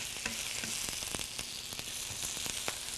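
Scallions stirred into Korean beef frying in a pan give a steady close sizzle, with a spoon scraping and tapping through the meat in irregular strokes and no talking.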